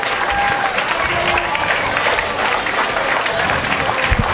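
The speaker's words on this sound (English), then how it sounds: "Round of applause from the Viking faithful as Decorah moves on to 27-8 on the season." Decorah Vikings baseball fans cheering and applauding at Oelwein-District Field after a 9-3 district final win over the Oelwein Huskies, a loud, dense wash of crowd noise and clapping that holds steady throughout.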